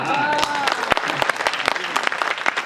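An audience at a Hindi poetry recital claps in a steady patter of hand claps, with a few sharper individual claps standing out. A voice talks over the clapping early on.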